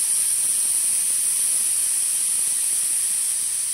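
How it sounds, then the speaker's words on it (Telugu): Steam is released from a pressure cooker of pongal, a steady, continuous high-pitched hiss that stays even in level from start to finish with no voices. "పొంగల్ ఆవిరి తీసేద్దాం."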